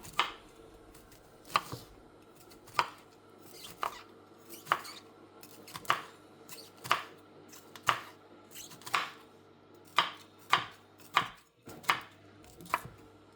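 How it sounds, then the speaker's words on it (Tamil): A knife slices bitter gourd into thin circular rounds on a board, about a dozen crisp, evenly spaced chops, close and clear with no talking. "பாவக்காய் எப்படி கட் பண்ணேன்னு பார்த்தீங்கன்னா, இந்த மாரி தின்னா சர்க்குலரா கட் பண்ணிக்கிட்டேன்"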